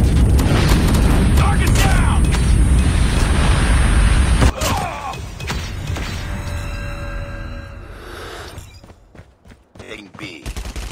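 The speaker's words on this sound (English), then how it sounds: "Warning, friendly nuke has been launched." Massive explosion from a nuclear strike in a first-person shooter video game, a dense roaring blast with gunfire and booms for several seconds that abruptly drops, leaving fading rumble and scattered crackles; a game announcer voice speaks over it.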